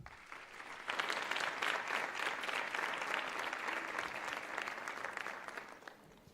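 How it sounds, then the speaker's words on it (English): An audience at a learner leadership summit breaks into applause, with steady, fairly loud clapping from many hands that starts after a brief moment and carries on evenly before easing slightly at the end. "Let's give a round of applause to Joshua Lemenkis."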